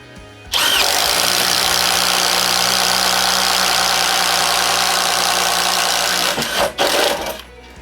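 Bosch Freak impact driver on speed 3 boring a hole with a 1 inch Bosch Daredevil spade bit, a loud, steady whirring hammer-buzz running about six seconds without pause, then cutting out with a couple of brief bursts at the end.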